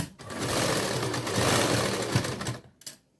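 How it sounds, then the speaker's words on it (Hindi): A sewing machine runs a straight stitch on a princess-cut blouse, a close, steady rapid mechanical chatter for about two and a half seconds before slowing and stopping with a few final clicks, no voices. "अब सीधी सिलाई फिर से लगा लेंगे वहाँ तक जहाँ तक आपने निशान लगाया हुआ है।"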